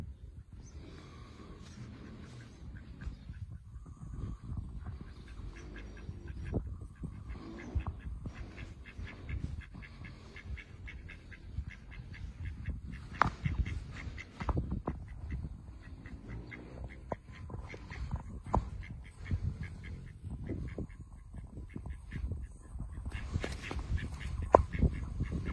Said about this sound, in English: Lovely ducks.